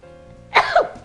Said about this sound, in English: Ooh, it really does make you sneeze.